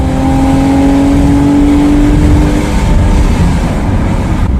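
A Smart car engine revs hard to redline in second gear while pulling up a hill, climbing steadily in pitch, loud and close, a continuous drone with no voices.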